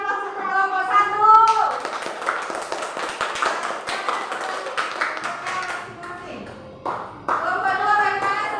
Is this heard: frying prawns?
no